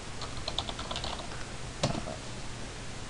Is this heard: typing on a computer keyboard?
yes